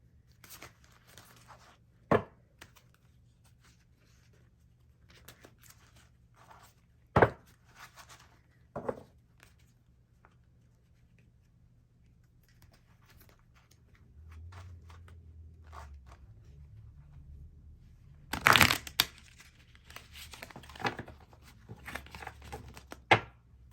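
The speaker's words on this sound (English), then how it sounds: "I'm going to give these a good shuffle." Tarot cards being shuffled by hand during a yearly reading, a quiet series of soft riffling and tapping bursts with a louder flurry near the end, no speech over it.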